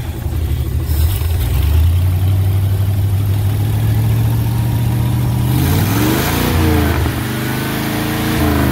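A 1969 Ford C700 truck's 330ci V8 engine at cold start, running loud and close with a rough idle, then revving up and dropping back several times.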